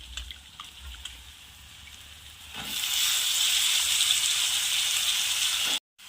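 Washed flat beans (val papdi) drop into a hot pan, setting off a sudden loud, close sizzle that holds steady for several seconds after a quieter start, then cuts off abruptly.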